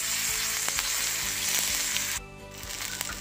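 Curry leaves dropped into hot tempering oil with mustard seeds and asafoetida, crackling in a bright, continuous sizzle with scattered pops and a few stirring knocks, briefly dipping quieter near the end.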